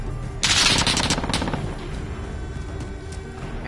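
Loud automatic SMG gunfire in Call of Duty Modern Warfare, a rapid sustained burst up close at the start that trails off into continuing battle noise, with no talk.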